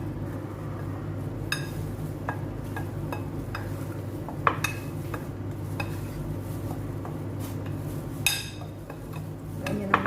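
Spoon stirring icing powder in a bowl while making homemade cinnamon balls cake, giving close scraping and light clinking strokes at a steady, loose rhythm, with occasional sharper taps against the bowl.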